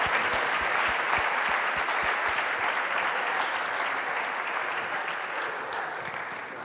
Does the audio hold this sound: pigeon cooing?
no